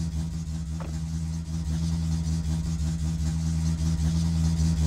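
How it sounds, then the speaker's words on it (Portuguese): Car engine in the My Summer Car video game runs loudly with a wrongly fitted exhaust, giving a steady, droning, buzzy idle that holds close and constant throughout with no speech. "Por que que ele tá nesse barulho todo se eu botei o escapamento?"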